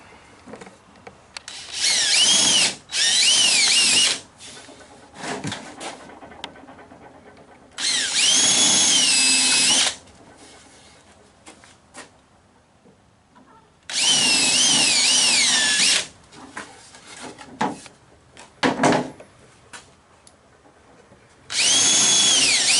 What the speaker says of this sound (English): We're going to drill through each one and then flip it over and drill for our plugs.